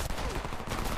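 Pistol gunfire in Homefront multiplayer on PS3: a dense, loud burst of game shots and blasts packed into about a second, with no talk.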